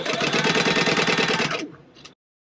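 Sewing machine stitching a seam on a bag with a 3 stitch length, a fast, close mechanical whir that runs steadily for about a second and a half, then stops with a few brief clicks.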